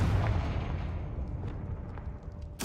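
Confringo explosion spell in Hogwarts Legacy: a low rumbling boom opens, then a sharp, loud blast bursts out at the very end.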